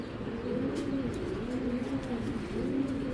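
A male Lal pigeon of a tournament-flying breed coos close by in repeated rolling, throaty phrases, about three swells over a few seconds.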